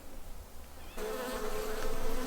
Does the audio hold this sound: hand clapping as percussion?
no